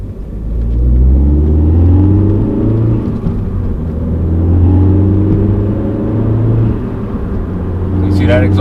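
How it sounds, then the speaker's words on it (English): A car with a new aftermarket exhaust rumbles loudly and steadily nearby as the engine revs, with a brief higher-pitched sound at the very end. "See, that exhaust ain't that quiet."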